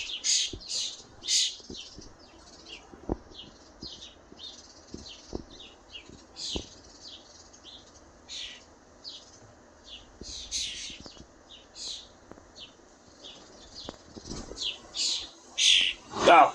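Young birds chirp in a nest, with many short high tweets and squeaks scattered irregularly, close by, rising into a louder burst at the end, with occasional clicks and faint low background sound between.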